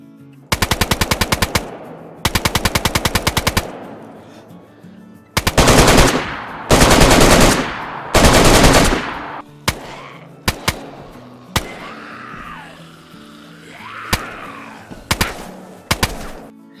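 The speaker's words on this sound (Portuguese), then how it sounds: "A primeira arma introduzida pelos desenvolvedores é a AK-101." AK-101 rifle firing in the DayZ video game: loud bursts of rapid automatic fire with short pauses between them, followed by scattered single shots and a few brief echoing reports.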